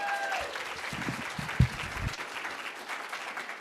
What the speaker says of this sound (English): Let's give Verona Sutton Dunn a round of applause.